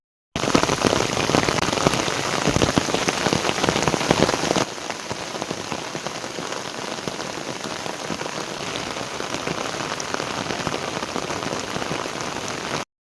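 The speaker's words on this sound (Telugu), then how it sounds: "సో ఆ రోజు మధ్యాహ్నం చూడండి వర్షం కూడా పడుతుంది" Rain pours down steadily outdoors on an afternoon as a dense, hissing wash, heavy for the first few seconds and then easing to a softer constant patter with no voices.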